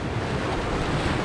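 Surf crashes against the lighthouse pier at Fairport Harbor, Ohio, in a dense, continuous roar of churning water mixed with heavy wind buffeting the microphone, close and loud with no talking.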